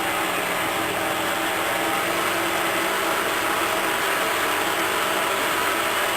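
A stand mixer turning choux pastry dough to cool it before the eggs go in, a loud, constant mechanical whir and rattle of gears running without a break.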